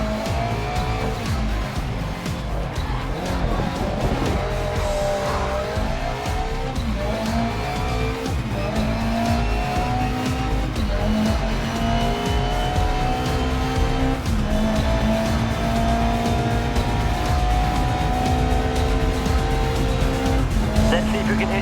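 Race car in the Grid Legends video game slides through a corner on a touch of handbrake, a steady loud engine whine rising and falling through the gears with tire squeal over it and voice commentary underneath.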